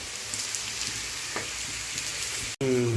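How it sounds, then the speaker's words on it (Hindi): Onions frying in a pot for a rustic handi chicken: a steady crackling sizzle that runs evenly, then cuts out briefly near the end before a louder, fuller hiss bursts back in. "तो प्याज अपना भून चुका है"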